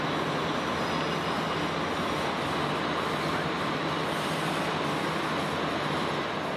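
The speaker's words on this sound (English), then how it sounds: "we're finally on the train to Xativa" Interior of a passenger train bound for Xativa, Spain: a steady, broadband rumble and rush of rails and carriage, constant and enveloping with no voices.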